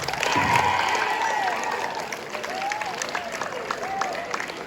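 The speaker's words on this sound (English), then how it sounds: "At that point, you give a massive round of applause." Audience applause at a school science week demonstration in Dubai, a steady wash of clapping with some crowd noise, loud and continuous throughout.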